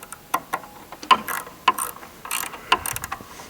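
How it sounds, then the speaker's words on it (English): A ratchet wrench loosens a bolt on the diverting arm of a DynaCon conveyor, giving sharp, close metallic clicks in short irregular bursts with brief pauses between strokes. "You need to loosen that bolt."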